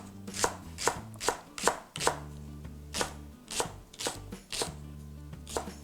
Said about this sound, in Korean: 파는 그냥 송송송송 썰어서